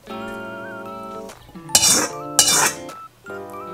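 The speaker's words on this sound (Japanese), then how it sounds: "あとはお皿の上にぶちまけます。" Metal scraping and clattering as stir-fried cabbage is tipped from a pan onto a plate, two bursts of clinks and scrapes between sustained tonal music.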